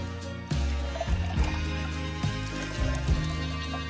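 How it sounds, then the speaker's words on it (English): Water pours into a pitcher for making margaritas, a steady filling trickle over continuous background music with a beat. "Next, add water."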